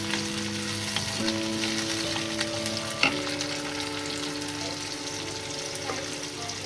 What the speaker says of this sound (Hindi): तो इसे अब फ्राई करना है कि टमाटर भी सॉफ्ट हो जाए